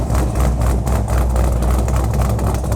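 A modified Chevrolet Camaro SS V8 with an aftermarket cam, headers and exhaust idles in a shop, giving a loud, steady, deep burble with a slightly lumpy rhythm throughout.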